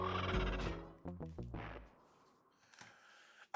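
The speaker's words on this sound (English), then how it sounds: "Watch out for those eagles. They don't look friendly." Loud, harsh bird screeches from giant eagles in the video game Sly 2: Band of Thieves, a few strident calls close up that fade into fainter cries.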